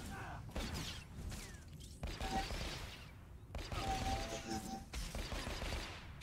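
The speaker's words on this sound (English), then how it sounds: "Shoot you in the face with my blaster." Energy blaster shots fired in Star Wars: The Old Republic, several sharp bursts spread across the clip over game music and sound effects, with someone talking over much of it.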